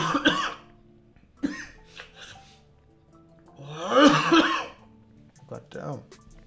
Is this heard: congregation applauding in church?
no